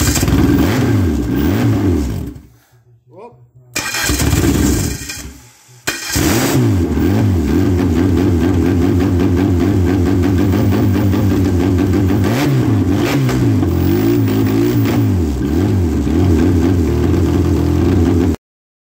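A Dodge Neon engine sitting on the floor runs and settles into a steady idle, with a loud, continuous rumble that drops out briefly twice early on before holding even to the end.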